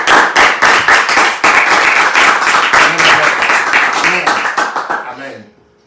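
Congregation clapping in a church service, loud close rhythmic applause filling most of the clip before stopping abruptly near the end, with voices mixed in.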